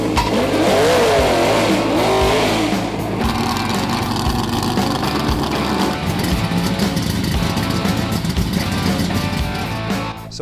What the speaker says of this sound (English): So I'm driving a 1972 Mustang Mach 1